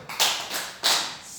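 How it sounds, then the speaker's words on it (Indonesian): Students in a classroom clap in unison, two loud bursts of group clapping spaced apart with a softer clap between, close and without voices. "Kita tepuk salut."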